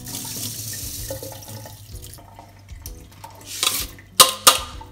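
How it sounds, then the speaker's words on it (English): Tap water runs into a pot of rice being readied as Japanese sushi rice at a home kitchen sink, a steady flow that ends with a few sharp splashes and clinks near the end. "So then I'm going to put some water in this."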